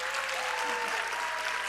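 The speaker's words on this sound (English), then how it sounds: "Let us offer them a warm and well-deserved round of applause" Applause from an audience following a Bharatanatyam arangetram dance performance, a steady, dense wash of many hands clapping throughout at moderate level with a faint sustained tone underneath.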